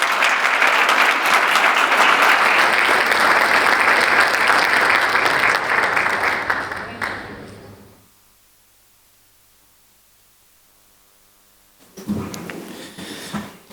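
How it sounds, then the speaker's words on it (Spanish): Audience applause at a health summit panel, a dense sustained round of clapping for about seven seconds that fades into silence, then a second short burst of clapping returns near the end. "Reiteramos el aplauso para el doctor Carlos Ruiz de Clínica Mets"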